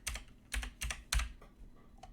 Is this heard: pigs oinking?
no